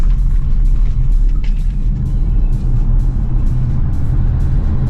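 A Polestar 2 electric car in sport mode merging onto the US 175 highway, heard from inside as a loud, steady low road and tire rumble with wind noise and no talk.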